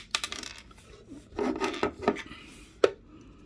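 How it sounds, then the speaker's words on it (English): A small plastic cover is pried off an S.H.Figuarts Iron Man action figure, with quiet close scrapes, rubbing and light clicks, ending in a single sharp snap. "I'm gonna take this cover off."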